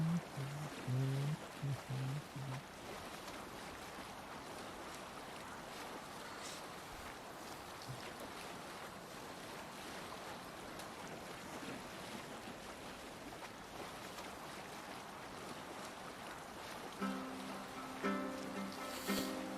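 A sailing ship moving over open sea in Assassin's Creed Valhalla, with continuous wind and rushing waves under a soft, quiet wash. Brief tonal game music cues come in at the start and end.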